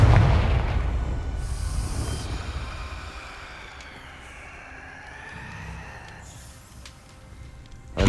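A Confringo blasting spell from Hogwarts Legacy goes off in a heavy booming blast at the start, then fades into a long rumbling tail under faint magical shimmer and swishing effects.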